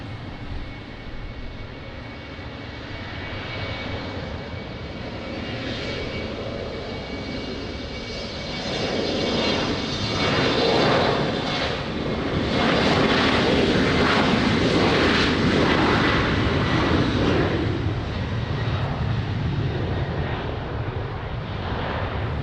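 Airplane landing at Lisbon Airport in rain and wind, a broad steady engine roar that swells louder midway and stays strong, with wind noise over the microphone and no talk.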